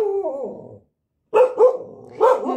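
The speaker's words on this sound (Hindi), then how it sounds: "कुत्ता है तो भौंकेगा ही" A dog barks close and loud, first in a drawn-out howling bark and then in several sharp barks in quick pairs after a short pause.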